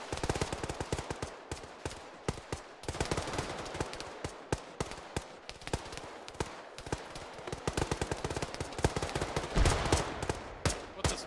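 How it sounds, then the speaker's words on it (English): Video game gunfire in Arma 3: sustained rapid bursts of automatic weapons and rifle shots crack without pause in a dense, loud firefight, with a heavier thump near the end. "Steady fire, steady fire."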